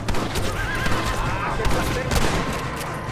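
A horse neighs loudly in a Mexico desert shooting video game, a sharp whinny amid hoof clip-clops, game effects and someone talking.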